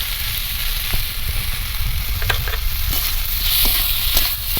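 Sliced ridge gourd fries uncovered in a pan, loud steady sizzling close by with repeated scraping strokes of a spatula stirring the pieces, and no one speaking.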